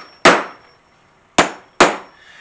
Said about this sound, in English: I'm using my claw hammer to hit on my...